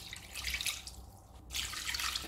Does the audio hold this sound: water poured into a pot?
yes